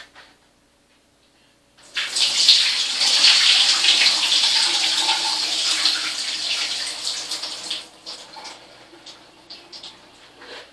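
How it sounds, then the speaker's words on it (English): Water from soaked shuck beans pours into a metal strainer in a loud, splashing rush that begins abruptly, holds for about six seconds, then tapers into scattered drips and trickles. "Pour that water off."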